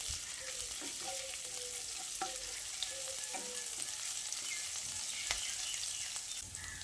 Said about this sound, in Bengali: আদাটা দিয়ে তেলের সঙ্গে কিছুক্ষণ ভেজে নিচ্ছি।